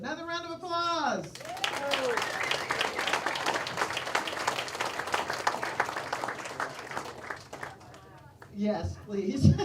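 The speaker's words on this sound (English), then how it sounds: "Another round of applause." An audience at a celebration-of-life memorial service bursts into sustained applause lasting several seconds, with a voice speaking before it and again as the clapping fades.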